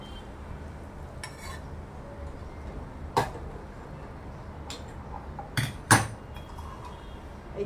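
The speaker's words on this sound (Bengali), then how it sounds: "এই তেলটার সঙ্গে ভালো করে মশলাগুলো মিশিয়ে নিচ্ছি" Spices are stirred into oil for a mango pickle, soft scraping under faint background noise, punctuated by a handful of crisp metallic clinks of a spoon against the bowl; no speech.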